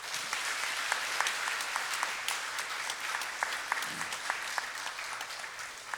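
Steady applause from a church congregation during a Sunday service's mission offering presentation, a dense wash of many hands clapping that carries evenly from start to finish, with a few soft voices underneath.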